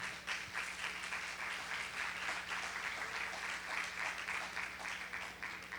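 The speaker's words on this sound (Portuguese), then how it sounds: "Puxa aquele aplauso aí, Carlos Henrique." Church congregation applauding during a sermon, a dense, steady wash of many hands clapping throughout at moderate distance, with a low mains hum underneath.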